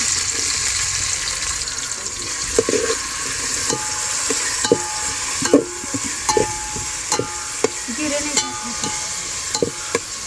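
Onion frying in an oil-filled pan on a home kitchen stove, a steady sizzle with periodic scraping stirs, close and moderately loud, with no talking.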